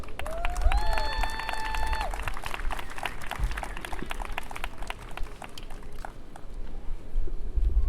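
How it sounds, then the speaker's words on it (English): Commencement audience at Gale Academy gives a strong round of applause, dense sustained clapping and cheering throughout with a whistle-like tone early on. "I want you to give them, your village, a strong round of applause"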